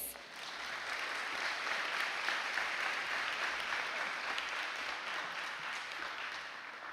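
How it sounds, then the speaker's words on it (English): Steady applause from a crowd at a high school honor society induction ceremony, continuous clapping that holds for several seconds at an even level and fades slightly near the end. "let's give a round of applause to Alexis Rodriguez"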